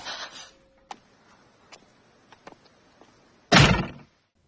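A house door in the Hellraiser film closes on its own, a soft click and faint ticks followed by a firm, close thud near the end, with a brief airy rush at the start.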